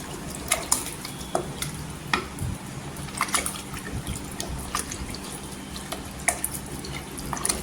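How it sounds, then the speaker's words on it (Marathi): Rice and water are stirred together in a pressure cooker, giving soft sloshing swirls and scattered clinks of a spoon against metal, heard close and fairly quiet with no voices. "आता छान इथे मिक्स करून घ्यायचं।"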